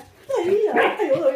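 Near, short dog-like barks and whimpering yips run for about a second, blended with voiced sounds that may be a person imitating a dog.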